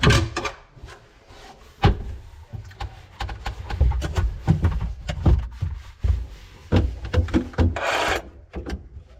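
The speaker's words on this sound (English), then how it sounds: "Let's go ahead and cut these pipes." Pipes are cut by hand near a tank at an off-grid tiny-house build, making irregular scraping and rasping strokes up close, with knocks and rubbing between bursts.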